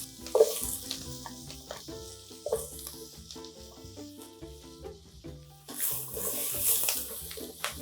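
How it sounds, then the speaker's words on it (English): Butternut squash added to onions frying in a pan, with a steady sizzle under stirring and faint kitchen clatter, somewhat louder near the end. "I'm gonna go ahead and add that butternut squash"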